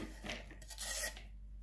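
A knife slices through an onion on a board in a home kitchen, quiet scraping and rasping cuts in a short irregular series, close and soft with no talking.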